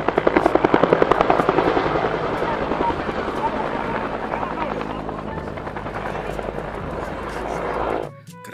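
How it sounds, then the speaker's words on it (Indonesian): A helicopter's steady rotor chop roars loudly and close, with a dense rhythmic thumping that holds throughout before cutting off abruptly at the end. "Wih, ada helikopter teman-teman."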